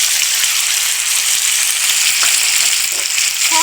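Chopped potatoes and onions fry loudly in a pan with salt, turmeric, chili powder and ginger paste, giving a steady, close, continuous hiss of sizzling oil with faint stirring scrapes and no voices.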